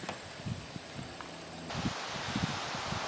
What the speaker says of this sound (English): That wind just picked up.